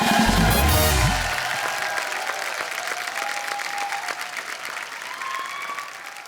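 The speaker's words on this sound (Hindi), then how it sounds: "आप मल्लिका के लिए जोरदार तालियां। आइए मल्लिका।" Loud audience applause welcomes Bollywood actress Mallika Sherawat onto the stage at a show, bursting in at full strength and then settling into steadier clapping that fades a little over several seconds.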